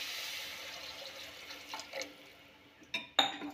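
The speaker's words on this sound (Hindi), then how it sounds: "हम इसमें एक गिलास पानी डाल रहे हैं।" A glass of water pours into chana masala with potatoes cooking in a pressure cooker, a soft steady splash and trickle that fades, followed by a couple of sharp metallic clinks at the end.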